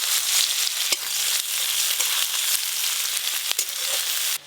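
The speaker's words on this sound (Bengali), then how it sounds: "পেঁয়াজ বেশ ভালো করে ভাজা ভাজা হয়ে গেছে।" Chopped onion and black cumin fry in a generous amount of mustard oil for a village-style eggplant dish. The loud, even sizzle is close and continuous, broken by a few sharp clicks. No one speaks.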